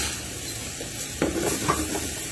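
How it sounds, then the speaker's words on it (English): A steady frying sizzle hisses from fresh mackerel in a hot pan, with a couple of faint clinks and stirring sounds near the end. "you can hear that sizzling away there"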